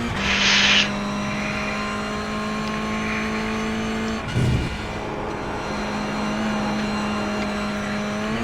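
A race car engine drones steadily in an iRacing sim race at Lime Rock Park after an accidental downshift, a continuous close engine tone with a brief dip and rough burst midway.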